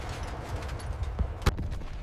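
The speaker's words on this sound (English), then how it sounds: "Explosions tear across the airfield as defenders open fire." Distant bursts of gunfire crackle over a rumbling background of explosions at an airfield, with a couple of sharper shots standing out amid the din.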